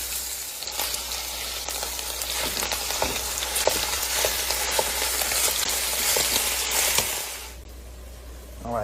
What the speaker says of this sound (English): All right, the meat is browning pretty well.